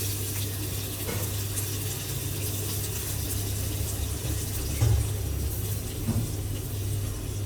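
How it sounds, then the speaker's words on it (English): Water poured into a sizzling Thai choo chee curry with pork ribs, then stirred, giving a steady wash of hissing liquid with a couple of brief scrapes near the end. "Add 1/4 cup of water and stir."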